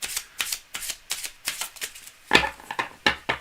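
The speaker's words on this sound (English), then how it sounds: "So I'm just going to shuffle it up and pull the top card after I do a cut." Tarot cards are shuffled up close in a series of quick, crisp riffling bursts, about eight rhythmic flurries over a few seconds, fairly quiet with no talking.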